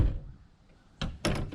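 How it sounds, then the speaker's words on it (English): The back door of a school bus slams shut with two solid thunks in quick succession, close and loud, after a quiet lead-in. "Shut the door."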